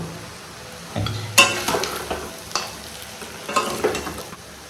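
Goat meat fries with a little garam masala in a pan, sizzling steadily while a utensil stirs and scrapes, with occasional clinks of metal against the pan.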